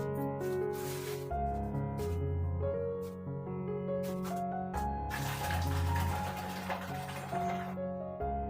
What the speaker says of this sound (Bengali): তো কালকে যে বেডশিটটা উঠিয়েছিলাম সেটাই ভিজিয়ে রাখবো, পরে কাচে দেবো।